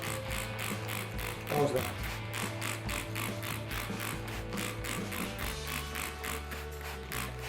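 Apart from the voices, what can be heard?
homemade spray bottle wetting compost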